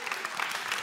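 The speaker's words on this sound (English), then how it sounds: "give her an applause." A short burst of clapping from a crowd, steady and moderately loud.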